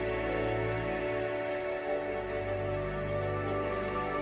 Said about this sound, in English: Within days, massive clouds gather, and the long-awaited rain returns.